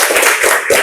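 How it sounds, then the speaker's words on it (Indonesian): Children in a classroom clapping their hands together in a short burst of several quick, loud claps close by. "Tepuk tangan."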